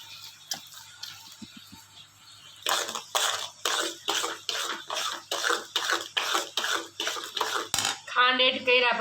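A spoon scrapes steadily around a pot as sugar is mixed into thick homemade amla chyawanprash, about a dozen evenly spaced, fairly close strokes following a few seconds of quiet background.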